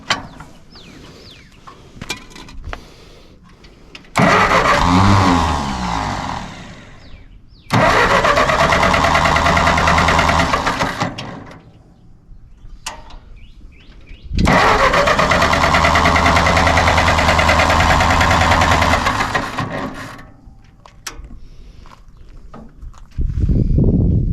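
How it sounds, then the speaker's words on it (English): The engine of a 1946 Massey Ferguson tractor cranking without catching: three long, loud, labored bursts of churning starter and engine turnover, separated by pauses with faint clicks and handling noises. "let's see if she'll start"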